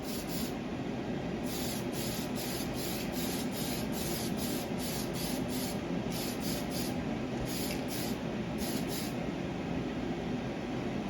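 Spray can laying a second coat of paint onto bare plastic, a steady close hiss with a run of short rhythmic pulses as the nozzle is pressed and released repeatedly, no talking.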